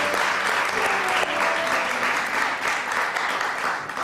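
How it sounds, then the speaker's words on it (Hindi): A television studio audience breaks into dense, sustained applause, a steady wash of many hands clapping at even loudness throughout. "एक बार महविश के लिए और महविश की अम्मी के लिए बहुत सारी तालियां।"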